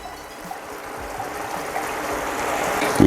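Red wine pours into a glass in a kitchen where a Bolognese is cooking, a close, steady trickling that builds slightly in level over a few seconds.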